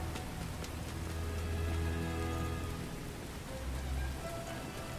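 Rain falls steadily around Dante's old house in Devil May Cry 5, a constant dense patter with a soft low rumble swelling and easing underneath, no voices present.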